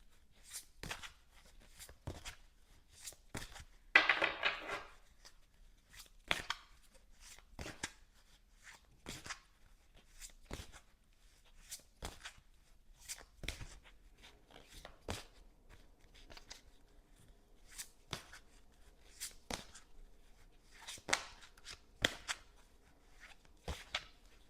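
Oracle cards being shuffled and handled close up, a long series of soft flicks and riffles at irregular intervals, with one brief louder rustling burst, in a quiet room.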